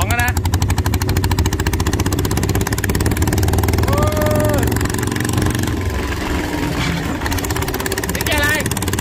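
Homemade power tiller converted into a mini pickup, its engine running steadily in second gear, a loud continuous close chugging drone with high whine, while someone speaks briefly over it.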